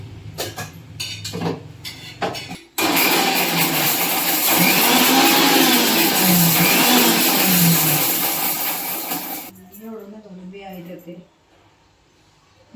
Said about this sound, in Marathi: आधी फक्त मिरच्या फिरून घेते